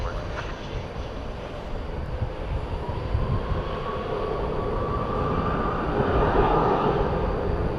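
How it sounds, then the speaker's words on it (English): Turkish Airlines Airbus A350-900 jet on flight 192 to Istanbul at DFW Airport at night, a steady broad engine roar slowly building in loudness with a rising whine, continuous throughout. "They're on the A350-900 tonight, flight 192 going back to Istanbul."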